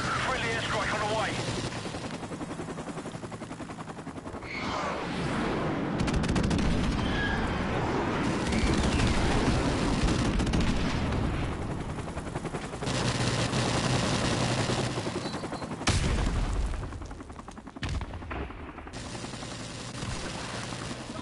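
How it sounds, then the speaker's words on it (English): Video game combat din of a friendly airstrike: a dense, continuous wall of gunfire and heavy booms over a rumbling low end, loud throughout, with a game voice over parts of it. "Friendly airstrike on the way."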